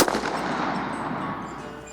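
A Colt Lawman Mk III .357 revolver fired double action outdoors gives one sharp, loud report at the start, followed by a long fading echo that trails off over the next two seconds.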